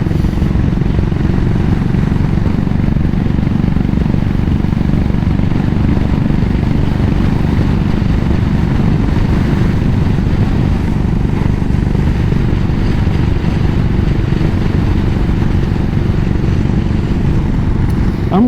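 Royal Enfield Continental GT motorcycle on the move, a loud, constant low engine drone with wind rush, heard close up and steady throughout with no speech.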